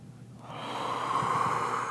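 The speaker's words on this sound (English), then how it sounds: "One more deep breath in, let it all out." One slow, deep breath drawn in and let out near the microphone, rising from quiet to a steady airy rush with a soft nasal edge, during a snuff and plant medicine session.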